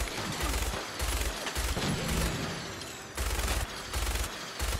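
A minigun in the game Fallout 4 fires in dense, rapid bursts, with loud rattling volleys broken by short pauses and a steady rumble underneath, with no talking.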